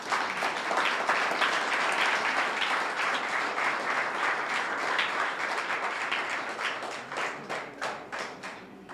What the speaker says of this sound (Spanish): Vamos a dar un fuerte aplauso